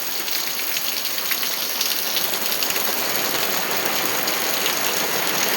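Heavy monsoon rain in Konkan in May falls behind a house, a dense, constant hiss of drops on surfaces that holds steadily throughout with no voices.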